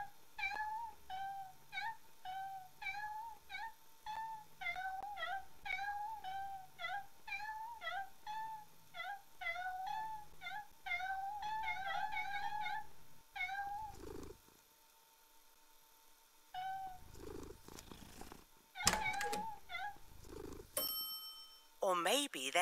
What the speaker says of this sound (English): just cats that want outside